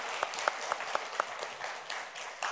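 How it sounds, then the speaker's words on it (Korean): Congregation applause welcoming a newcomer during a Sunday church worship service, soft and fairly distant, with a few sharper claps standing out over a few seconds. "우리 환영의 박수 한번 해주시기 바랍니다."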